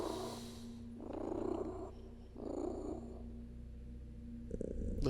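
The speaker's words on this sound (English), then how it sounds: "Listen to that baby purr." A cat's purr heard up close in a video game: a low, rumbling drone in two or three slow swells, loud and alone with no voices over it.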